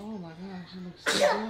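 A single sharp sneeze bursts out near the end, close and loud, following a woman's speech and excited talk about food.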